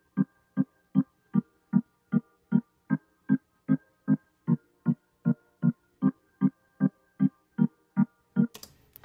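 Reggae organ bubble rhythm from a mix, filtered to keep the mids, short evenly spaced chord stabs repeating steadily about twice per second, clean and isolated.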